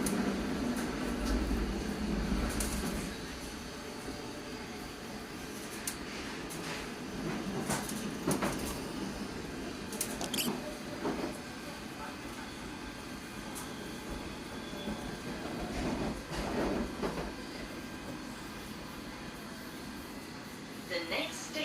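A London Underground Circle line passenger train runs between Hammersmith and Edgware Road, a steady low rumble and rolling wheel noise inside the carriage with occasional clunks and squeals, while a voice talks over it.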